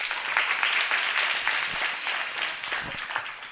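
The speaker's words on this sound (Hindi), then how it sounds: "हाँ, वाह वाह, ताली बजाओ।" Applause from the audience at a devotional discourse on Ekadashi, a dense, steady wash of clapping that carries evenly through the moment without a break.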